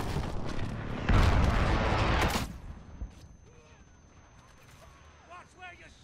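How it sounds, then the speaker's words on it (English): A precision airstrike in Call of Duty: Modern Warfare hits as a loud, rumbling burst of explosions lasting over a second, then fades into distant gunfire and battlefield noise with faint voices. "Friendly precision airstrike inbound."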